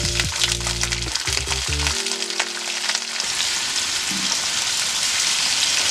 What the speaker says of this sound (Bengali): পেঁয়াজটা কিন্তু লাল লাল করে ভাজতে হবে।